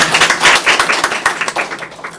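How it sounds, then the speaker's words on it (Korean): A burst of audience clapping at a talk show, many hands applauding together in a steady, busy patter that fades slightly toward the end. "박수 한번 주세요"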